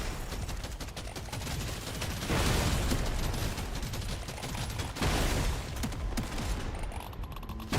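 Dense, continuous gunfire and mechanical clatter from a shotgun in the video game Deep Rock Galactic Survivor, a steady loud barrage with two heavier bursts, no talking.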